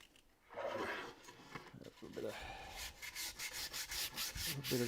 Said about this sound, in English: I just need a piece of sandpaper.